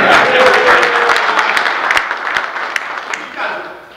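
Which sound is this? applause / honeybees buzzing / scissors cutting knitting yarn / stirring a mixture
applause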